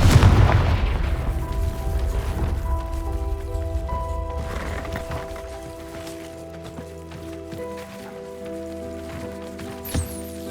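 Confringo fire spell blast in Hogwarts Legacy: a loud booming explosion at the start that rumbles and crackles, then settles into a fading, tonal magical ringing hum, with a faint sparkle near the end.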